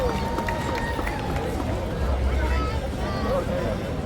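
Crowd noise at a dog show during a finale performance, a steady, dense roar of cheering and hubbub that stays loud and continuous throughout, with an announcer's amplified voice talking over it.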